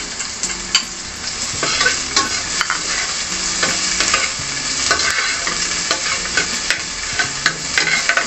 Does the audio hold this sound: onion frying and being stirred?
yes